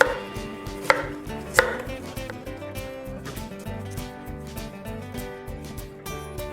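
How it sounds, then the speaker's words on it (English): A knife chops through a head of cauliflower on a cutting board. Two sharp, close strikes ring out near the start, then softer, steady cutting continues over a busy background. "Goal is to cut all the pieces of the cauliflower of similar size so it cooks evenly."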